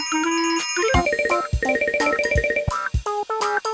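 A cartoon telephone rings in bright, repeating electronic trills, a quick bell-like melody that stops and restarts several times, loud and alone.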